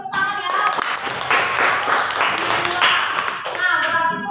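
A classroom of students claps together, a dense, steady round of applause lasting about four seconds before tapering off.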